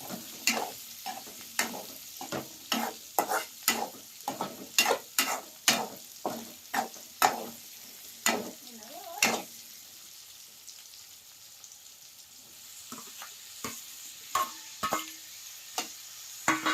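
Green chilies fry in oil while being stirred, with repeated close scraping strokes over a soft sizzle; the stirring pauses midway, then resumes with fewer strokes.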